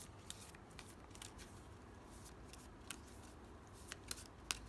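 Soft, quiet riffling and clicking of cards being shuffled, with scattered sharp ticks over a low hiss of background noise.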